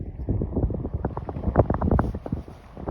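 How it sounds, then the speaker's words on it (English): A west wind at 15 to 20 mph with gusts buffets the microphone at Seaside Park beach the day after the 2022 blizzard, producing loud, uneven rumbling bursts that rise and fall. "We got a west wind"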